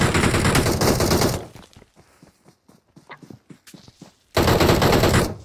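Video game gunfire rattles in long, loud automatic bursts at the start and end, with a quieter stretch of scattered clicks and light footstep-like taps between them.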